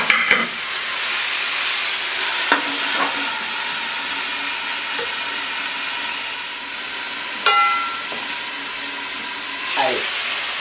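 Veal in a hot pan deglazed with martini, giving a loud, continuous hissing sizzle of steam with a few sharp clinks and scrapes scattered throughout, close up and with no talk.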